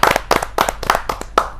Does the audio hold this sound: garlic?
no